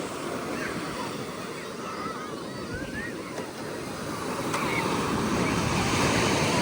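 Steady roar of surf washing onto a beach, broad and continuous, with wind buffeting the microphone and faint distant voices underneath.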